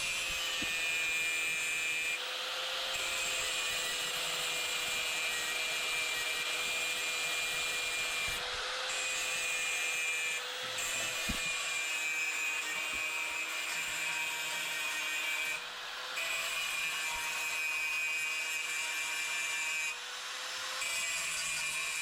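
An angle grinder works steadily on the welds of a stainless steel railing, a continuous loud high-pitched grinding whine with only slight dips, close and alone for the whole stretch.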